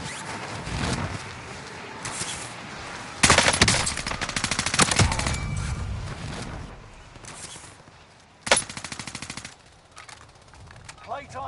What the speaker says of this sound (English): I didn't know I had that big ass LMG on this class